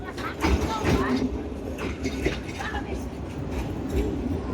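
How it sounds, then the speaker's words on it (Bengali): A Narayanganj commuter train enters Pagla station with a continuous rumble and rattling clatter, and voices talk over the noise throughout. "নারায়ণগঞ্জ থেকে ছেড়ে আসা ঢাকা অভিমুখী নারায়ণগঞ্জ কমিউটার ট্রেনটি এখন পাগলা প্রবেশ করলো"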